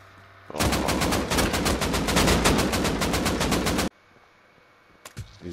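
SMG fire in the video game Rust: one sustained, loud automatic burst of rapid shots lasting about three seconds, then silence and a couple of short, quieter pops at the end.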